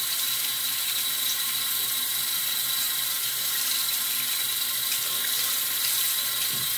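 Cold tap water runs steadily into a sink while a shaving brush is rinsed before a straight-razor shave, a continuous close hiss and splash with no voices.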